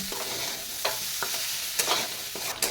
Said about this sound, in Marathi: आता हा बटाटा मस्तपैकी दोन मिनिट परतून घ्यायचा